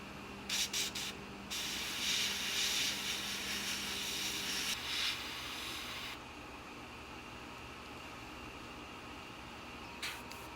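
Airbrush spraying MRP US Navy white lacquer onto the intake housings of a 1/48 Tamiya F-4B Phantom model, bursts of close airy hiss starting and stopping, with a longer steady spray in the middle and a fainter hiss afterward.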